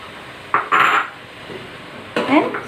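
Stirring prawn curry with potato, radish and okra in a pan, with two short bursts of utensil scraping and clatter against the pan separated by a quiet pause.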